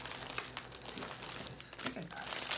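Close, constant crinkling and rustling of plastic packaging being handled, running without a break and loud in the foreground.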